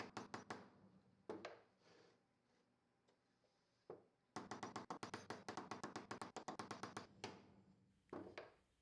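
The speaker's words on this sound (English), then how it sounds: "so they need to be knocked out with a hammer and punch" Rapid metallic tapping and knocking as a hammer and punch drive bearing races out of a 1985 AMC Eagle carrier, bursts of quick strikes with brief pauses, close and fairly loud.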